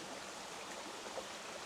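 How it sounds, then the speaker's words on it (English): Water flowing in a small stream in summer, a soft, steady rushing and trickling wash, faint and continuous with no voices. "while there's water in the stream"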